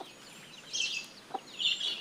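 Chicken chicks cluck and cheep in short, high, fairly close calls, several bursts over a quiet background with no talking.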